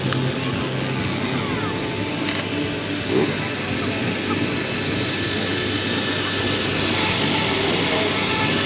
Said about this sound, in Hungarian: A levegőben továbbra is egy modell helikopter.